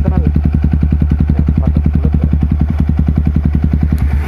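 A motorcycle engine running steadily close up, its loud rhythmic exhaust pulses thumping evenly throughout with a faint mechanical clatter.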